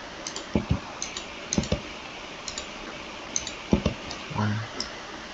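Keys on a computer keyboard clack in short irregular bursts of a few taps at a time, close and fairly loud, with brief pauses between bursts.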